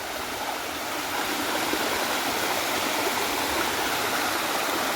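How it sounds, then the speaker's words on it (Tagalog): Hinolugan waterfall in Guinobatan, Albay roars in a steady, dense broadband rush, loud and continuous throughout with no voices. "Grabe ang falls."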